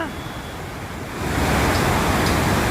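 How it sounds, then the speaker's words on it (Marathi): Broad, steady rush of swollen river water gushing after rain near Nashik, heard from a bridge; the roar is dense and continuous, growing louder partway through with no voices over it. "खळखळून वाहते हे या ठिकाणी हे जे पाणी आहे बघा"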